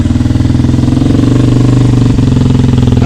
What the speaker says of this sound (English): This has got a flat slide carburetor on this Drz250. It's running pretty well actually.